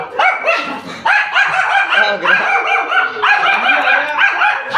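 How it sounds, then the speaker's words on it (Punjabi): A dog barks repeatedly at close range, a loud run of sharp, harmonic barks and yips in quick bursts, with a brief spoken word from a person. "ਕੁੱਤਾ ਭੌਂਕ ਰਿਹਾ"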